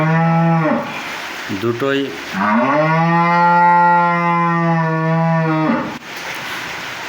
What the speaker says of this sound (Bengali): আর একটা গরু সাইডে ডাকতেছে